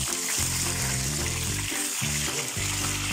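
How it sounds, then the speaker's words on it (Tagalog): Tilapia fries in hot cooking oil, a steady close sizzling hiss that runs unbroken throughout, with a faint low rhythmic rumble underneath and no talking. "Tapos pirituhin natin, ano?"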